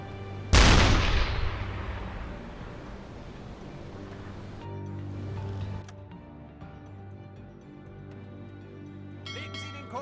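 A submarine deck gun in the UBOAT naval warfare game fires one loud, sharp blast near the start, trailing into a long rumbling decay over low, steady sea and engine ambience.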